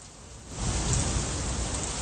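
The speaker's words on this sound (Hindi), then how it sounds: "ये लगातार 10 मिनट से यहाँ पर तेज बारिश का दौर शुरू हो चुका है।" Heavy rain pours steadily in the Shekhawati region of Rajasthan, an unseasonal downpour heard as a dense, continuous broadband hiss that swells louder after the first half second and holds steady, with no voices.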